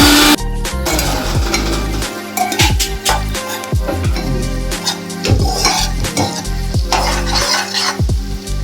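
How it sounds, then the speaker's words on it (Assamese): Onion, bay leaf, cardamom, cinnamon and cloves frying in butter, ghee and a little refined oil, a steady loud sizzle broken by repeated scrapes and clinks of a spoon stirring against the pan. "তাতে বাটাৰ অকণমান, ঘি অকণমান আৰু অকণমান ৰিফাইন তেল দি পেলাই পিঁয়াজ, তেজপাত আৰু ইলাইচি, ডালচিনি, লং এনেকৈ ৰঙচুৱা হোৱালৈকে অকণমান ভাজি দিওঁ।"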